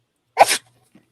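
A single short, sharp sneeze bursts out close by, followed by a brief quiet breath.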